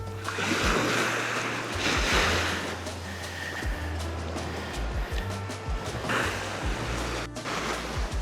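Ocean waves breaking near the shore, a continuous loud wash of surf with repeated surges and rumbling swells, close by and alone without talk.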